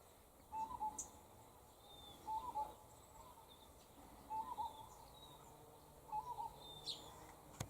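Wild parrots calling in an Australian forest, short bursts of calls repeating about every two seconds, moderately distant over a quiet background.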